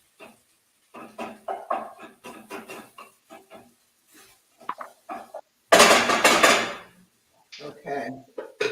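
Greens with smoked paprika are stirred in a pot with a spoon, giving soft scraping and clinking strokes in short bursts, then a louder sizzling swell near the end, mixed with moments of talking.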